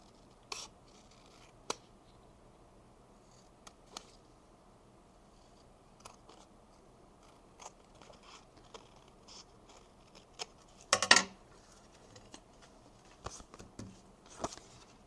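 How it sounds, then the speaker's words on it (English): Scissors trim excess paper from a paper-pad tag in a craft class, heard as sparse, quiet snips and crisp paper rustles scattered across a mostly hushed stretch, with a busier cluster of cuts near the end. "and then we're going to take our scissors,"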